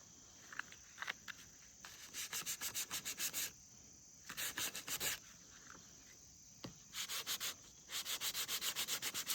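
Wood being sanded back and forth along the grain, in bursts of quick rhythmic rasping strokes separated by short pauses, close and fairly quiet, with no talking.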